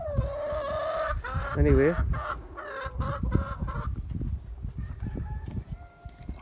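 Backyard chickens cluck in short bursts while a rooster crows loudly up close, followed by softer clucking and a brief spoken word.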